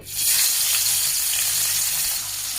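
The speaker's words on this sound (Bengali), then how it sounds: "দেখুন মাছগুলো দিয়ে দিচ্ছি, একসাথে সবগুলো দিয়ে দিচ্ছি। এখন ভালো করে লাল করে ভেজে নিব" Pieces of fish dropped together into hot oil, a loud close burst of dense hissing sizzle that holds steady and eases slightly toward the end, with no talking.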